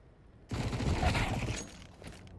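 Gunfire from a 2v2 CS:GO match on the Vertigo map, with an SMG burst and rifle shots trading in a dense, loud flurry for about a second, then fading into game ambience.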